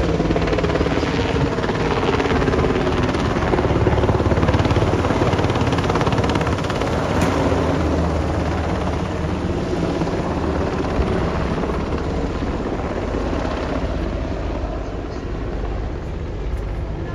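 A helicopter performs in a TEKNOFEST demonstration show, its loud, steady rotor and engine roar holding close and constant for the whole stretch with no talking.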